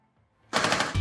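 A sudden rapid burst of gunfire in Rainbow Six Siege on the Coastline map, loud and close, breaking in after a near-silent half second and rattling fast to the end.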